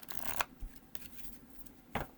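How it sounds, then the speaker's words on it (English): Tarot cards being shuffled, a few riffled and overhand bursts of papery flutter and snapping, close and fairly quiet, with pauses between them. "You do the rifle shuffle, and you do the overhand shuffle."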